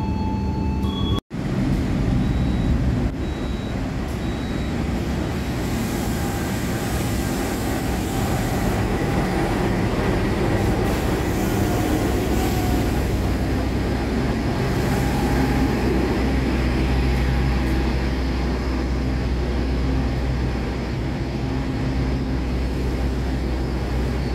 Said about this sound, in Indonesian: Yang baru masuk di jalur 1 ini kereta api Parahyangan dari stasiun Jakarta Kota